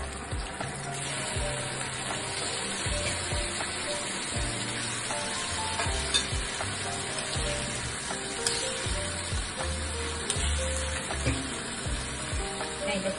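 Fried chicken pieces for crispy honey chicken sizzle steadily in a hot pan, a dense continuous crackle with occasional stirring clinks and no talking.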